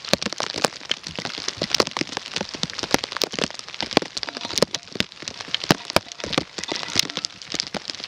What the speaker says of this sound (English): I can just see it's just rain. It's freezing rain.